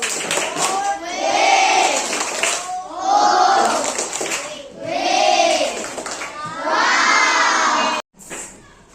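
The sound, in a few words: children clapping and cheering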